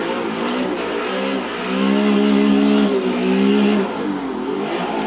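A car drifting with the handbrake in the Assetto Corsa racing game, its engine droning steadily and revving higher in the middle before settling back, with tire noise under it and no talk.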